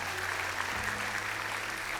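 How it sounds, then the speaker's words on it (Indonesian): Audience applause at an Indonesian city stage event, a steady, even wash of clapping lasting the whole two seconds at moderate level with no talk. "Tepuk tangan dong buat negara kita."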